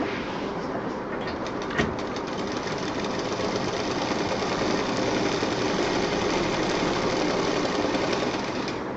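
Sewing machine stitching a bed cover made from a saree with foam layers, a loud continuous rapid mechanical whir running steadily throughout, close up.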